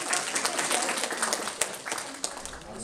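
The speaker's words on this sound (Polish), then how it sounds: "jeszcze raz gorące brawa" Brief burst of scattered clapping from a small crowd at an art exhibition opening, moderately loud, fading slightly toward the end.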